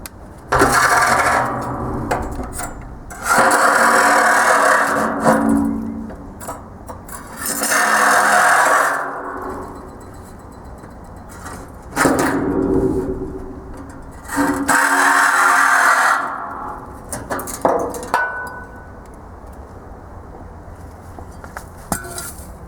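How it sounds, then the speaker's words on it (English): A Sawzall reciprocating saw cuts through shipping container steel in several loud, buzzing bursts of a few seconds each, with short pauses between cuts. "So I'm just going to finish it off with the Sawzall."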